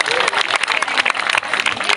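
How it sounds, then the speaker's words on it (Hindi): A crowd at a youth convention in Jhirpani claps loudly in a dense, sustained burst of applause to welcome the Rourkela parish procession, with the patter of many hands filling the whole moment. "तो बहुत जोर से जितने लोग भी हैं सभी को एक साथ तालियों के साथ स्वागत करेंगे।"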